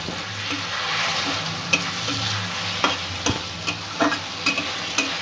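Yogurt is stirred into potato and okra curry frying in a pan, with a steady loud sizzle and scattered spoon scrapes and taps, close up with no talking.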